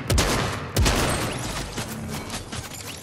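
Shotgun and SMG fire in the video game Fortnite, two heavy shotgun blasts followed by dense, rapid bursts of submachine-gun shots, loud and close.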